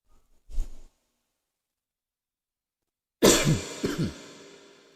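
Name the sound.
coughing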